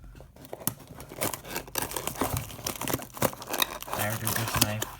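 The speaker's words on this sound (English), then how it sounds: "let's get this package cut" A knife package being cut open, crinkling plastic and paper tearing with snips, close and busy with rustles building toward the end, a voice briefly heard.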